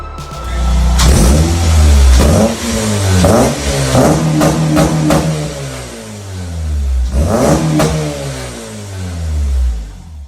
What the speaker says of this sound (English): Honda Fits with K-swaps are notoriously loud, and we were looking for a deep, warm tone that didn't have a lot of drone.